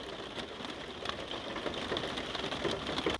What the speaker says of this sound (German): Das regnet seit gestern Abend.